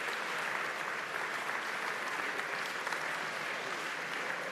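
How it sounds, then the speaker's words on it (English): A town hall crowd applauds Mayor de Blasio with steady, unbroken clapping from many hands at an even, loud level throughout, with no pause or talk. "round of applause."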